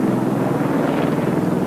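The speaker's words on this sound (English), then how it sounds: "A very impressive helicopter." Helicopter fitted with Ferranti Sea Spray radar flying at a Fairford airshow, a loud steady rotor and engine drone with a pulsing low beat, continuous throughout and alone.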